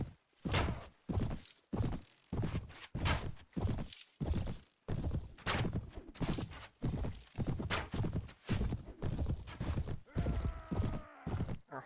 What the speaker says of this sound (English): Our horse footsteps are especially loud